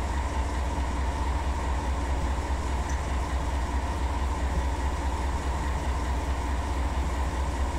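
A heavy 15,000-ton freight train rumbles along in the Run 8 Train Simulator game, a steady, unbroken low drone of engine and rolling wheels at constant volume.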